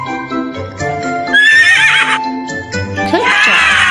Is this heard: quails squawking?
no